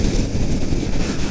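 Kawasaki Ninja 400 motorcycle (2018) engine and exhaust in a roll-on at about 6,000 RPM in a lower gear, a steady, continuous low drone with constant loudness and no speech.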